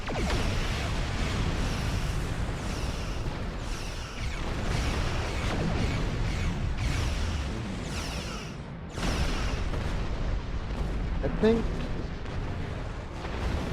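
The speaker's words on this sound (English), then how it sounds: "I think a Negvar warship warped in, and sure enough, there it is." Klingon Negh'Var warship warping in during Star Trek Online space combat, a dense rumbling roar of booming bursts and whooshing energy that stays loud and continuous throughout, with a brief chime-like ping near the end.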